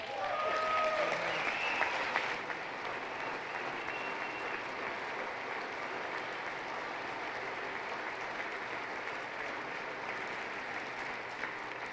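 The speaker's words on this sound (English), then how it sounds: "I wasn't sure if anybody, even on this side, was going to applaud for that." Audience applause during a presidential State of the Union address, a loud burst that swells at the start and then holds as steady, sustained clapping from a large crowd for the rest of the span.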